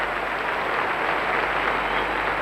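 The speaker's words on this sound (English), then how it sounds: "The applause doesn't diminish." Sustained applause from an arena audience at the 1984 World Figure Skating Championships ice dance event, a dense, steady roar of clapping held at an even level throughout with no breaks.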